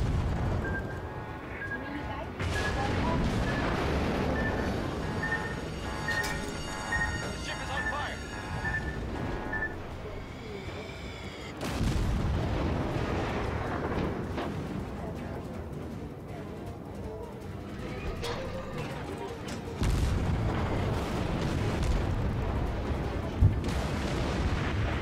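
Heavy naval guns fire from warships in the game World of Warships, sending repeated deep booms and rumbling blasts over a continuous low din, with someone talking through much of the action.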